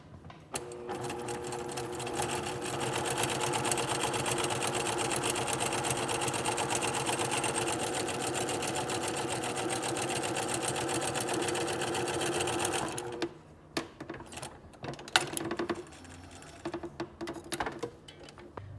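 A sewing machine runs steadily for about thirteen seconds, stitching a seam through the seam allowance with a loud, even mechanical whir, then stops, leaving scattered clicks and handling taps.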